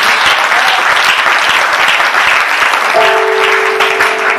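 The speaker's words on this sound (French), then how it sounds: "Est-ce qu'on va acclamer le Seigneur?" Church congregation applauding the Lord during a Sunday service: loud, dense, sustained clapping from a large crowd, steady throughout, with a faint tone entering near the end.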